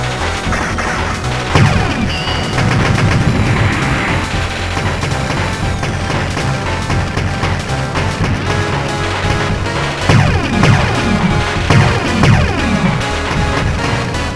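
Weapon fire in the shoot 'em up Cho Ren Sha 68K comes as a dense, loud, continuous barrage of rapid shots and crashing explosions, layered over driving game music throughout.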